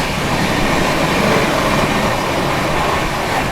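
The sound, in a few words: express train overtaking Khatipura Howrah Special train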